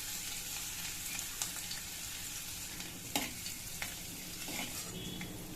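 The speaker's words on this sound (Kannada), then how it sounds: "ಈಗ ಎಣ್ಣೆ ಕಾದಿದೆ. ಸಣ್ಣಗೆ ಕಟ್ ಮಾಡ್ಕೊಂಡಿರೋಂಥ ಶುಂಠಿ ಬೆಳ್ಳುಳ್ಳಿ ಹಾಕೊಂಡ್ಬಿಡೋಣ." Finely chopped ginger and garlic frying in hot oil in a kadai, a dense, constant sizzle with occasional spoon scrapes and taps, close and alone without voices.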